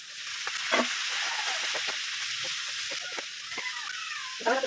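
Pork innards frying in a pan for adobo, a steady loud hiss of sizzling fat with scattered pops and spatters throughout, close up and alone.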